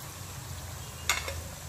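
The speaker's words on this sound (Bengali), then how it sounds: "তেলটা কিন্তু বেশি হিট করা যাবে না, একটু মিডিয়াম ফ্লেমেই ভাজতে হবে" Veg mini mughlai frying in oil over a medium flame, a faint continuous sizzle and bubbling with one brief sharp spatter partway through.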